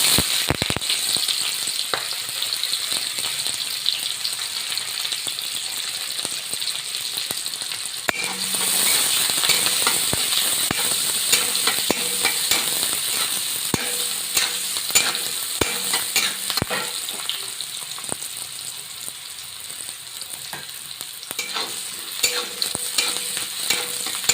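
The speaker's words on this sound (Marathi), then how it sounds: "कांदा पण चांगला लालसर कलर येईपर्यंत परतून घेऊया" Onion being sautéed with mustard seeds and cumin for vermicelli upma, a continuous loud sizzle in the pan with frequent clinking, scraping stirs throughout and no voices.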